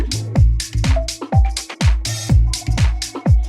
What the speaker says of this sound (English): the beat drop is basically just a drum loop that sounds like this.